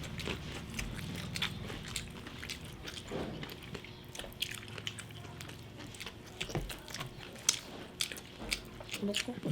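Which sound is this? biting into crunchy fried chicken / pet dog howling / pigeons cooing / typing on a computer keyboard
biting into crunchy fried chicken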